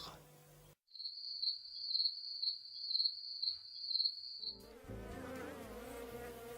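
An orthopteran insect stridulates, its femur rasp rubbing on the wing veins to make a high, pulsing buzzy trill in several rhythmic bursts, isolated and clear, with music and narration surrounding it.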